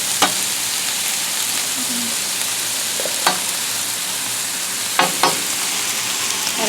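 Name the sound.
vegetables and butter sizzling on a Blackstone flat top grill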